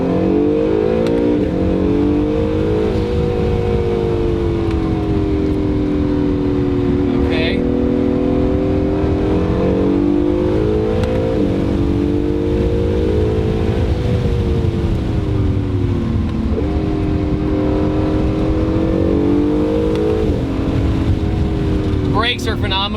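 A 2018 Acura NSX sports car climbs a hill with its engine rising and falling through several revving surges, loud and close from inside the cabin, with a voice heard intermittently.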